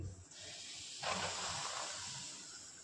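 Rice flour tipped into hot oil and ghee in a pan, a steady sizzling hiss that swells suddenly as it hits the fat and then holds at a close, even level.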